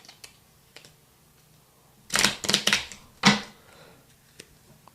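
A deck of playing cards being shuffled: a couple of faint ticks, then a quick cluster of crisp riffling bursts followed by one more sharp burst, close and fairly quiet otherwise.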